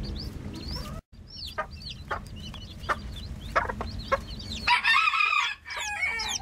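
Chickens with newly hatched chicks cluck in a busy, uneven stream of short calls, and a rooster lets out a loud crow near the end, all close by in a backyard coop in Soest.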